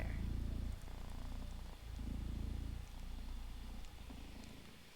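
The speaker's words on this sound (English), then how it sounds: "one of the perks or the rewards would be hearing Kachoo purr straight into the mic, because it is a sound" A cat purring straight into a close microphone, a soft, steady low rumble in long rhythmic breaths, faint overall with no talk over it.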